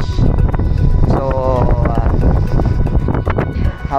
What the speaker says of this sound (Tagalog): napakalakas po ng hangin right now